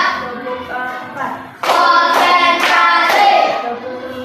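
Primary school pupils in a maths class clap in unison, starting with light talk and then breaking into a loud, steady burst of rhythmic group claps with a few sharp accents.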